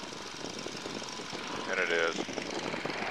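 A Boeing Stearman PT-17 biplane engine runs in a steady drone during a pre-takeoff check, fairly faint and constant, with a voice speaking briefly over it.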